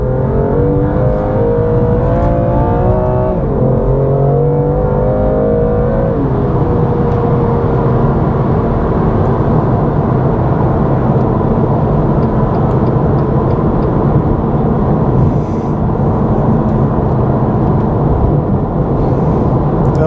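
A BMW M2 Competition accelerates hard while joining a motorway, its engine rising through a gear change before settling into a loud, sustained drone with heavy road and wind noise inside the car.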